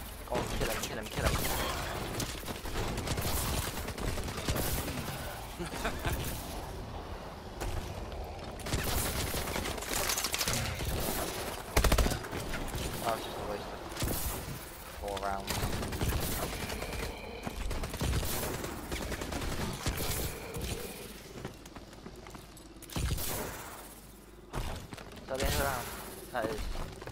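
Gunfire in Call of Duty Advanced Warfare's Infection mode, with bursts of automatic fire and clattering weapon mechanics mixed under near-constant chatter from players throughout.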